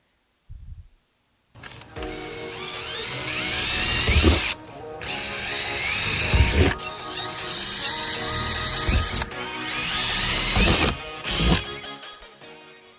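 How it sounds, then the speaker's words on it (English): A power drill whines loudly in several long runs drilling pilot holes, briefly stopping and restarting between bursts, close to the microphone. "After drilling the pilot holes, he drilled the actual hole."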